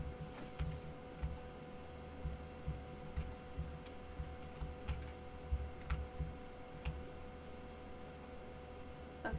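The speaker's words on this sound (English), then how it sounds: "She's typing." Quiet, sparse tapping of computer keyboard keys in irregular bursts, faint and close, over a low steady hum with no talk.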